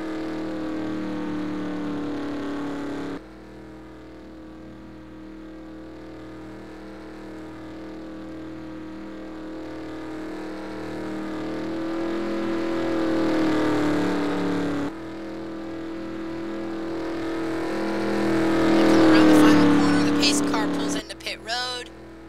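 Race cars compete in a 2018 road course showdown heat, their engines droning and rising in pitch as they accelerate, with a commentator talking over the racing.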